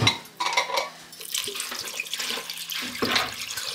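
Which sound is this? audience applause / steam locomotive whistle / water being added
water being added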